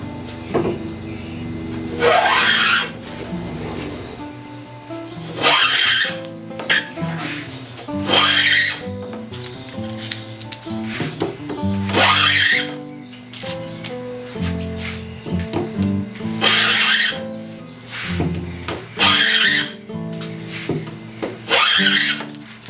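Restored hand wood plane taking shavings off a board, a series of loud rasping strokes repeating every few seconds, close up with no talk.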